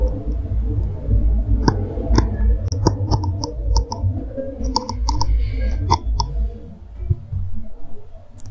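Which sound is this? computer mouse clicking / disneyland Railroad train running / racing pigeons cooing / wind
computer mouse clicking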